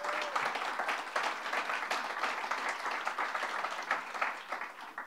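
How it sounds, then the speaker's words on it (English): Audience applause at a Governor Cuomo bill-signing event for the Child Victims Act, heard as dense, steady clapping from a crowd that holds at an even level throughout. "Let's give them a round of applause."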